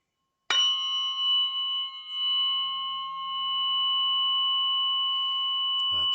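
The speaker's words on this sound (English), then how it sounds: "the sweetness coming into the sound of the fork" Tuning fork struck once in a sound-healing session, ringing with a sudden attack then a long, steady, pure sustained tone that hangs softly without fading much.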